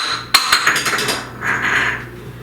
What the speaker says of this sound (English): my little cup fell that I had my melted butter in, but it didn't break